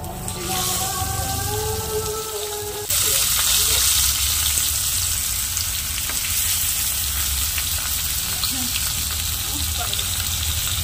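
Fish fries in hot oil in a kadai, a loud, steady, close sizzle and crackle that runs throughout, growing slightly louder partway through as more fish goes in.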